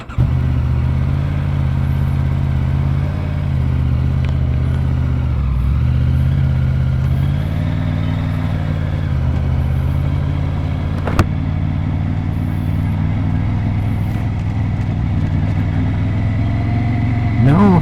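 A motorcycle rides out of Mission Trails Park with a steady, droning engine rumble close up, a low continuous hum that holds throughout with a brief sharp knock midway.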